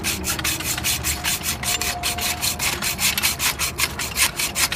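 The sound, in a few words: hacksaw cutting helical Brugg Secon-X pipe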